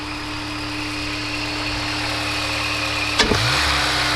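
A Honda S2000 engine with a freshly cleaned intake idles steadily nearby with a low, even hum, then a brief click and a short bump in pitch near the end.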